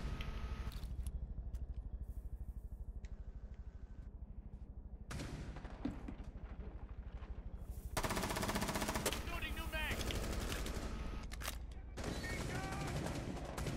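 Rapid gunfire from a DMR rifle in Rainbow Six Siege, sounding as bursts of sharp shots that grow louder and denser in the second half, layered over continuous game background noise.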